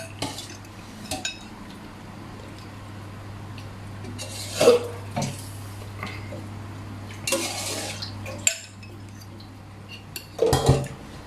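Metal ladle clinks and scrapes against a pot while tom yum snakehead fish-head soup with mushrooms is scooped out, with a few sharp clinks standing out over a low steady hum.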